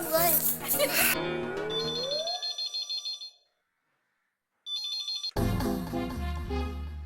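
A telephone ringtone sounds in repeated electronic bursts between stretches of music and dialogue from a Hindi comedy scene, with a short silent gap before louder music resumes.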